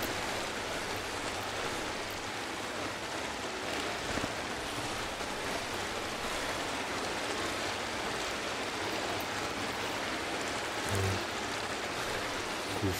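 River water flowing steadily in the horror game Bigfoot, a continuous broadband rushing wash at moderate, unchanging level with no pauses, heard alone without talk.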